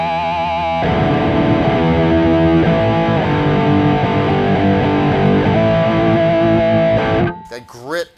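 A crunchy overdriven electric guitar, played through an Electro-Harmonix Nano Lumberjack Log Overdriver pedal, plays chords and sustained notes loudly for several seconds, then cuts off abruptly into a brief burst of other sound.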